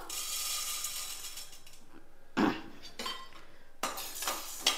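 Chana dal is tipped into a hot, dry kadai and stirred, giving close metallic scraping and clinks of a spoon against the pan over a steady low hiss, with a few sharper rattling bursts.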